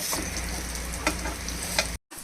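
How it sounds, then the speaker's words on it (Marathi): Rohu fish pieces coated in rava fry in a pan with a steady, close sizzle and a few crackling pops, broken by a brief near-silent gap before the frying resumes. "आता फिश आपल्याला पॅनवर ठेवून घ्यायचे"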